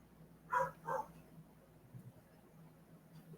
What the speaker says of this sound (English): Hear my dogs barking back there, Kim?